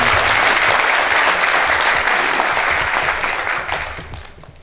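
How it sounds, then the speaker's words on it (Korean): Loud, dense applause from a large crowd at a youth party rally in an indoor hall, steady clapping that holds for several seconds and then begins to fade. "박수로 맞춰주시죠"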